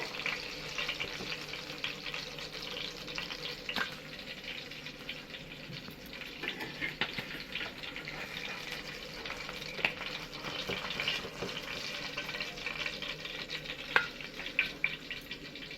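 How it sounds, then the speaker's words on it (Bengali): Pieces of soft Bhola fish frying in oil in a pan, a steady, moderately loud sizzle with scattered pops and crackles throughout. "এই 2 পিস মাছও আমি লাল করে ভেজে নেব।"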